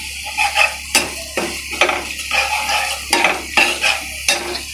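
Garlic frying in a pan while a utensil stirs it, with rhythmic scraping strokes roughly every second over a steady close sizzle.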